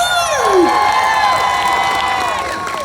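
An audience at a Seattle science event cheers, whoops and applauds loudly and steadily. Several high rising and falling shouts stand out above the broad crowd roar.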